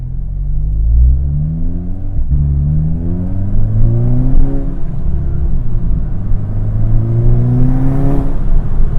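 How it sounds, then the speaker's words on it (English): A tuned APR Stage 3 Volkswagen GTI with about 350 wheel horsepower pulls hard, its engine note climbing through gears with a brief break as the transmission shifts and then rises again. The engine rumble is close, loud and steady, and no one talks over it. "I really love how this car is downshifting"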